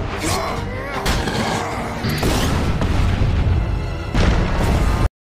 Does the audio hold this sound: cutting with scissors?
no